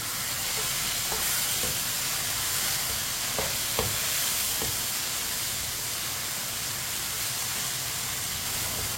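Red chilli powder, turmeric powder, whole coriander and whole cumin stirred together in a hot cooking pan, a steady sizzling fry with scraping stirs and a few sharp clinks of the spoon, close and continuous.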